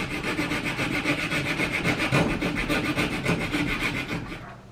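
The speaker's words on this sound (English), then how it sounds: "all of this will require filing and fitting with sandpaper, wood files, and maybe even a rasp" Continuous rough rasping of a wood file scraping back and forth across wooden gears for a roller cotton gin, loud and close, with a steady rubbing rhythm.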